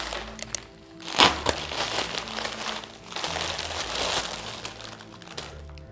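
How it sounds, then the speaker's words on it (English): A plastic bag wrapped around a boxed anti-static bag holding a computer part crinkles and crumples up close, in bursts of rustling with a few sharper crackles. No one talks. "This seller had it in an anti-static bag, but then inside a plastic bag"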